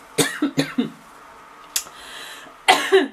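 A person coughs in a quick series of four short, close bursts, pauses, then gives a softer rasp and two more harsh coughs with throat clearing, all near and fairly loud.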